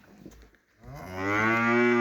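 A cow lets out a single loud, drawn-out moo close by, following a few soft rustling sounds.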